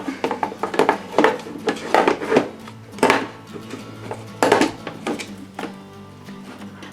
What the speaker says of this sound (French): Donc maintenant, nous allons fermer le Thermomix.